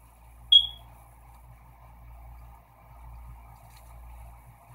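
A smoke detector gives a single short, high low-battery chirp over a quiet, low background hum.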